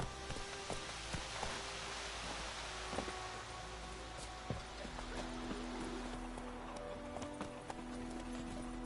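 Roach, Geralt's horse in The Witcher 3, trots with a steady, rhythmic clip-clop of hooves under light rain and game ambience, with faint tonal music in the background.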